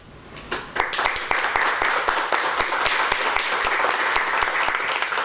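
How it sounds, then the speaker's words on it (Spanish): A room full of seated audience members claps together, starting scattered and quickly building into loud, steady, fairly rhythmic applause that continues without talk. "aplaudir"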